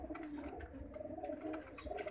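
Pigeon cooing from a loft of colourful pigeons, a steady low warbling coo repeating continuously at close range with faint higher chirps from other birds mixed in.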